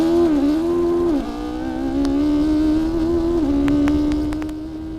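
Ariel Atom V8 engine held at high revs for a launch control start, a loud, steady, buzzy drone with a few brief dips in pitch, heard close and alone.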